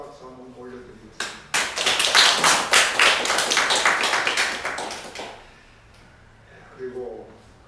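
Church congregation claps in thanks during a Korean worship service, a burst of steady, dense handclaps lasting about four seconds, then fading as a voice resumes speaking.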